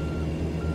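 A truck in American Truck Simulator backs out of a gas station, its reversing alarm beeping steadily over a low idling engine rumble.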